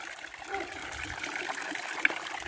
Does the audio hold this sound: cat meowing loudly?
no